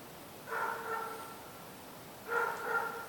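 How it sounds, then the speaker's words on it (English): A basset hound barks in the background, two short bursts of muffled barking heard from a distance over quiet room noise. "If y'all can hear that dog behind me"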